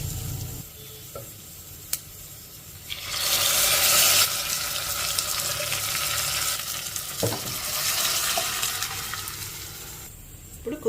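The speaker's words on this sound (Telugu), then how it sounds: "ఇప్పుడు మనకు పోపు వేగిపోయిందండి. ఆ పప్పు ఇందులో వేసేసుకున్నాము." Dal goes into a hot tempering in a pan, giving a burst of loud sizzling frying that settles into a steady crackle with a few stirring clinks, heard up close with no talking.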